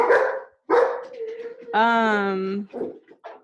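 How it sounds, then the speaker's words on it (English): A dog barks a few times nearby in a classroom setting, the short barks mixed with people talking. "who's dog barking?"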